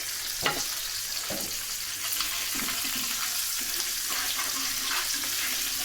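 Fish frying on a stove with a steady, close sizzle, broken by a few sharp clicks and scrapes of utensils in the pan.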